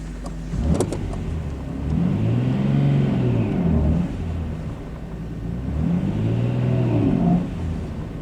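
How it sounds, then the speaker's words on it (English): A 1999 Nissan Skyline GT-R R34 V-spec engine is revved twice during a clutch test, each rev swelling and falling smoothly over a steady idle, close and loud with no talk. "I'm just going to test the clutch here"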